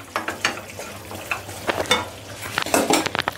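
Fried jackfruit stirred into masala in a pan: irregular scraping and clattering of a spoon against the pan over a light sizzle, a burst of quicker strokes near the end, close, no talking.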